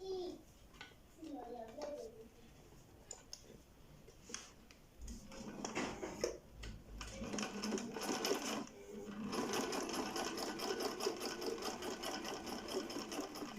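A Husqvarna Viking 3020 sewing machine stitching through thick folded fabric, starting with a few slow stitches and then running in a fast, steady mechanical whir, with a voice briefly talking early on.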